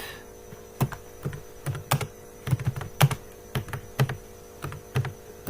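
Keys tapping on a computer keyboard while C++ code is written: quiet, irregular clicks in small clusters over a low mains hum.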